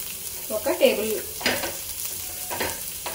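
Chopped onions fry in hot oil in a pan, giving a soft steady sizzle broken by a few stirring scrapes.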